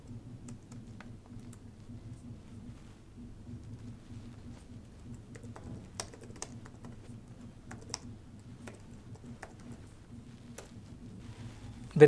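Someone types C code on a computer keyboard, producing quiet, close key clicks in an irregular stream with a few sharper louder taps, alone over a low hum.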